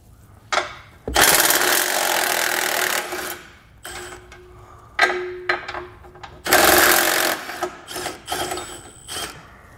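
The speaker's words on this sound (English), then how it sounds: "Then we'll need to remove the 2 bolts holding on our stiffener." A power tool buzzes in short and long bursts while removing bolts from the bumper stiffener on a 2022 Jeep during a base plate installation, loud and close with brief quiet gaps.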